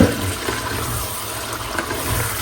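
Lamb meat is washed in a home kitchen under steady running water, a close, continuous rushing gush with small splashes throughout and no voices.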